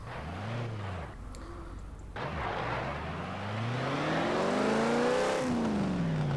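A turbocharged Nissan Titan Warrior pickup in the racing video game Forza Horizon 4 during an off-road test, its engine revving and rising in pitch over several seconds, loud and close, after a brief lift-off hiss.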